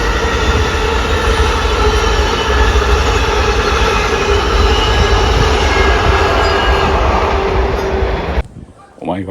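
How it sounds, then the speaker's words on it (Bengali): A train rolls past a lakeside in New Jersey in winter, a loud, steady rumble of wheels and cars close by that holds for about eight seconds, then cuts off abruptly. "এই যে বলতে এসে গেছে ট্রেন।"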